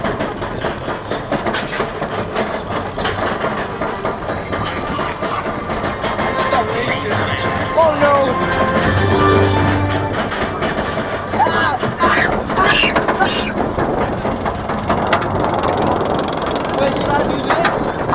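Green Lantern roller coaster at Six Flags Great Adventure roaring along its track, a loud, steady rumble with rattling clatter and rushing wind, riders shouting over it throughout.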